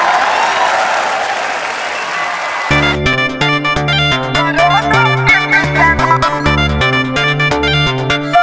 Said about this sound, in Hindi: तो जोरदार तालियों से स्वागत कीजिए